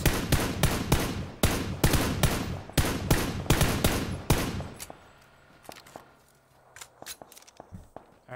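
Rapid covering gunfire in PUBG on Xbox, a dense string of loud close shots for about five seconds, then fading to a few scattered fainter shots.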